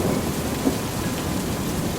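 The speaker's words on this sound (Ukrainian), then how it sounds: "гримить грім" Steady rain pours down with a low rumble of thunder underneath, a continuous dense wash of sound with no voices.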